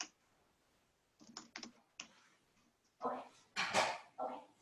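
A login password is typed on a computer keyboard in short, irregular bursts of close, crisp key clicks separated by pauses, with denser clattering toward the end.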